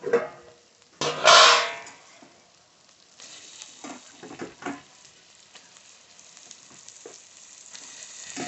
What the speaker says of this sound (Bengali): এই পর্যায়ে আমি ম্যারিনেট করা চিকেনটা দিয়ে দেবো